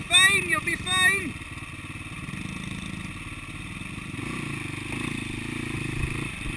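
Yamaha TTR90 kids' motorcycle ridden by a young rider on an enduro-type track, its small engine droning steadily at mid distance, with an adult's voice calling out over it early on.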